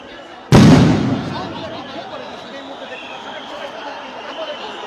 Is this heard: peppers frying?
no